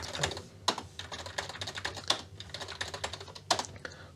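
Typing on the keyboard of a battery-leaked Tandy 200 laptop computer under restoration: a steady run of close, quick key clicks with a few louder strikes, uneven in rhythm, and no voices.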